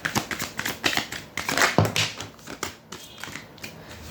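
Tarot cards being shuffled by hand, a quick run of crisp papery riffles and taps close to the mic, with no talking.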